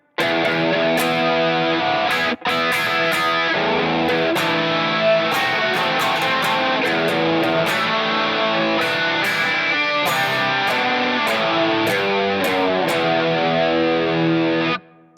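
Distorted electric guitar plays the C section of a verse riff, a dense continuous run of chords and notes, loud and close for about fifteen seconds with no talking.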